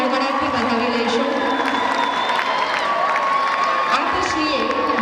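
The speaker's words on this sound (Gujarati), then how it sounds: "તો આપણે સૌ તેમને તાળીઓના ગડગડાટથી વધાવી લઈશું." An audience at a school annual day function gives a donor a dense, continuous round of clapping mixed with cheering and voices, loud and unbroken throughout.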